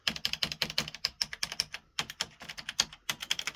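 Keys clatter rapidly on an Acorn A3010 computer keyboard with a faulty, partly working keyboard, close and crisp in irregular quick bursts with a short pause midway, no voices.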